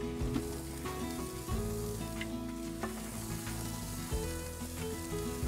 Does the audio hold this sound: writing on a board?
no